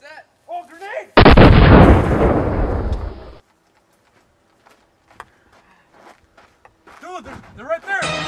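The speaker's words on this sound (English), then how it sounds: "Oh, grenade!" A grenade blasts in a first-person shooter video game, a loud close burst with a long rumbling tail that fades after about two seconds, framed by excited voices before and after.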